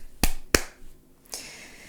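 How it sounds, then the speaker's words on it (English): Two sharp hand claps ring out at a Japanese shrine in quick succession, crisp and close, followed by a softer rustle and then quiet. "Clap twice,"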